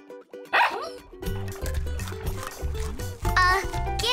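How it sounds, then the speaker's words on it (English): A cartoon puppy from Bubble Guppies yaps a few short, bright barks, one near the start and another later, mixed in with animated voices talking and music. "Bubble Puppy, come here, boy."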